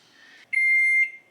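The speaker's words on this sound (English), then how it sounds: "now I will set the timer for 90 seconds" Kitchen timer set for 90 seconds and started: a single clear, steady electronic beep lasting about half a second, close and loud, after a faint lower tone, with no talk.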